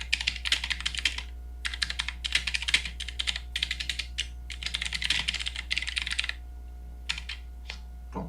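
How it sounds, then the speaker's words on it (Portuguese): Fast typing on a computer keyboard into a Notepad text file, steady bursts of close clicking keystrokes with short pauses, over a constant low hum. "vou digitar um texto simples aqui."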